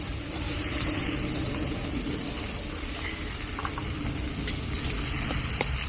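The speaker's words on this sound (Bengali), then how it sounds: "এবার দিয়ে দিচ্ছি টমেটো কুচি" Chopped tomato frying in a pan for a cauliflower roast, giving a steady, moderately loud sizzle and bubbling hiss with a few faint clicks, heard without speech.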